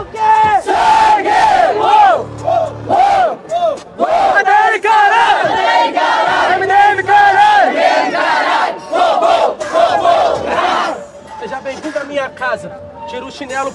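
A rap battle crowd at a Brazilian freestyle final roars in loud, sustained call-and-response chants and shouts, the mass of voices surging and dipping in rhythmic bursts throughout.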